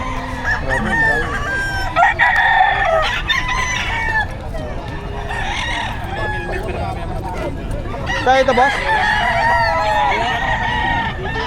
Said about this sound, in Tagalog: Grabe, ang laki ng manok